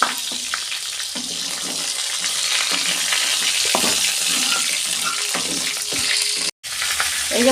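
Shankar fish (stingray) frying in a pan of oil, a loud continuous close sizzle and bubbling with occasional utensil scrapes and taps, briefly cut by a short gap near the end.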